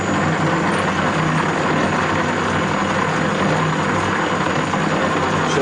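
A shop machine driven by a VFD turns slowly at 37 RPM, its belts worn and the machine unleveled and rocking on two legs, giving a loud, steady mechanical drone with no break.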